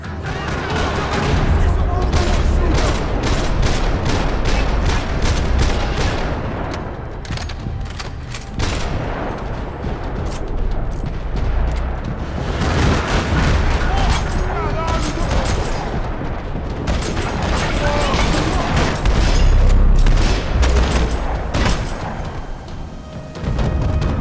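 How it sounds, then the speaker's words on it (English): Sustained bursts of rapid gunfire and booms in a parking lot in Max Payne game audio, loud and chaotic, with brief lulls between volleys and a voice talking at times. "Another parking lot rattling with gunfire."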